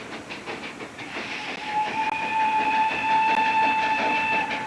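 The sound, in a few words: steam train arriving at Huntington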